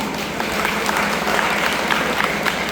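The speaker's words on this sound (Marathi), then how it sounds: "पण 5ही जर मोठं घेतले आपण तर जरूर टाळी वाजते की नाही बघा" A crowd claps together in sustained, dense applause at a tree-planting and job fair gathering, a steady wash of hand claps lasting throughout without pause.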